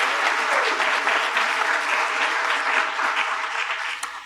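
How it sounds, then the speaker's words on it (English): A conference audience at a keynote session in Cleveland applauds the event staff with dense, sustained clapping that rolls evenly for several seconds before starting to thin out at the end. "Please give them a round of applause."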